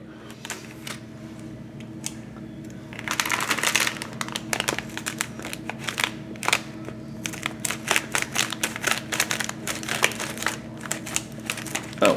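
Plastic packaging for a Lego Mixels Zorch set crinkles and tears close by, with busy rustling and crackling that grows louder partway through, and no one speaking.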